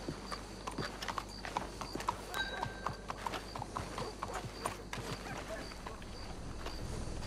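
Horse hooves clip-clopping on a road in Red Dead Redemption 2, a steady walking rhythm of distinct hoof strikes with faint snorts, quiet and continuous throughout.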